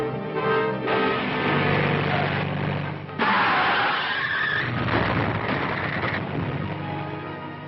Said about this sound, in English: Why, it's Philip's car.